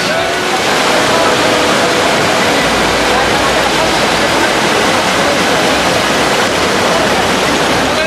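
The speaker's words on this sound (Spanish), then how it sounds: "Las lluvias sobre la sierra de Chiapas provocaron que el río Coatán se desbordara en Tapachula." The Coatán river in Tapachula, Chiapas, overflowing its banks after heavy mountain rains, its floodwater making a loud, steady, broadband roar that runs unbroken for the full eight seconds.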